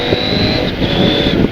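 A CFMOTO 800MT Touring motorcycle engine accelerating through Q-Shift clutchless gear changes, a loud close engine drone with a steady whine, partly covered by wind rush from riding.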